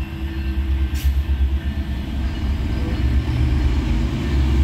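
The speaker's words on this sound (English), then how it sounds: "here comes a freight train right now" Union Pacific freight train with two engines rolling southbound past the State Street and 12th Street crossing, a loud, steady low rumble with rhythmic wheel clatter, heard close by.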